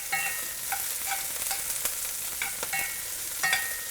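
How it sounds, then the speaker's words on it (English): Peppers sizzle and crackle in a hot pan, a steady frying hiss with occasional sharper pops and stirring scrapes, close up. "They're sizzling pretty nice."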